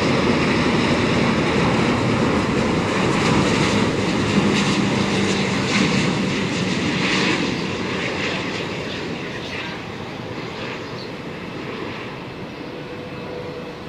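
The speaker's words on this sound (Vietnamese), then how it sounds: "chiếc Airbus A350-900 của Singapore Airlines đã hạ cánh xuống đường băng 25 phải" A Singapore Airlines Airbus A350-900 landing on runway 25R roars loudly and continuously, a broad jet engine rush that slowly fades as the plane rolls away.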